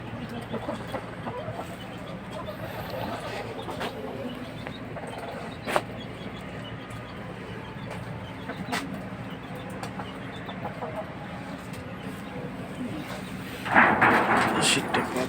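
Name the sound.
chickens clucking while coming down to eat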